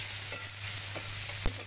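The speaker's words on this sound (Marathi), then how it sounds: "सगळे कांदा भाजते बघा." Onions frying in a pan make a steady close sizzle with a faint low hum beneath, and a single soft knock near the end.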